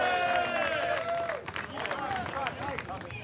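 An audience at a biker show applauds a rider's trophy win, with scattered clapping and crowd murmur under a voice that trails off at the start, continuing steadily at moderate level.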